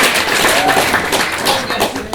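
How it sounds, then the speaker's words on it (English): Dense, continuous applause from an improv theatre audience, loud and sustained throughout the short stretch. "Let's give Chris a round of applause."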